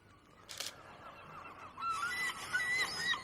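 Bird honking like a goose outdoors at Folkestone, with a short burst of sound early on, then repeated bright calls rising in the second half.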